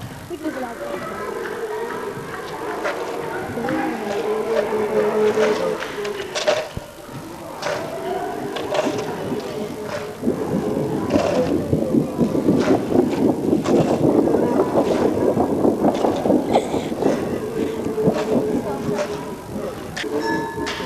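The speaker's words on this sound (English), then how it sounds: "I love the thunder sheets" Thunder sheets are shaken at a primary school, making a sustained, wobbling metallic rumble that swells louder in the middle and eases off again, with rattling crashes throughout.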